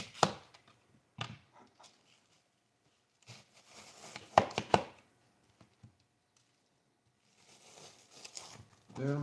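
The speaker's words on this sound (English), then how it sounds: "Then we got all the onions cut up." A knife chops onions in scattered short, crisp knocks and clusters, fairly quiet, with pauses between them and faint background noise.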